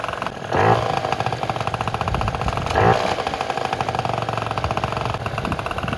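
Vento Triton R4 scooter fitted with a Polini variator, idling close by with a steady buzzy throb and two brief revs blipping the engine higher.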